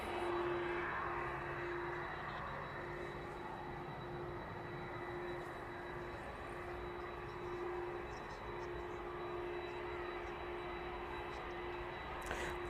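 A DHL cargo plane taking off from East Midlands Airport, its engines a steady, broad roar with a faint high whine that holds evenly from start to finish at moderate distance.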